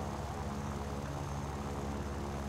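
Piston engine of a Yak-9U fighter plane in War Thunder drones as a steady, dense roar that stays at an even loudness throughout, with no pauses.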